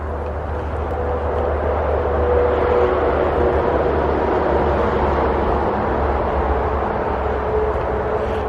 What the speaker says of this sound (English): You can hear the traffic going by, I'm sure.